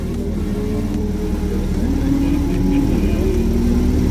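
Porsche sports car on hot laps at a Porsche experience day, a loud steady engine roar building and revving close by over several seconds, alone without talk.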